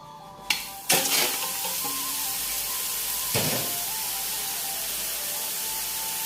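Meat goes into a pot with whole garam masala spices to boil, opening with a couple of sharp splashes, then settling into a continuous loud hissing, bubbling wash of water and steam with no voices.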